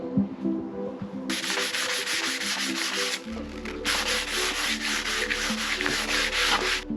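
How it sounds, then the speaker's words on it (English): Light hand sanding on Yamaha VX110 jet ski parts during a restoration, with steady back-and-forth abrasive rasping in long loud bursts separated by a brief pause, over a low background hum. "Just give them those parts of light sand"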